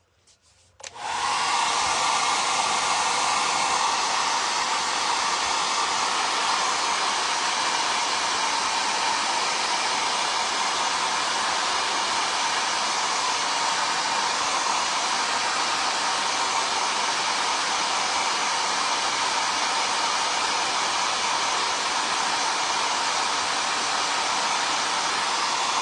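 A handheld hair dryer switches on and blows steadily to dry paint on a smashed can in a craft project, a loud, even, unbroken rushing whir that lasts throughout, with no talking.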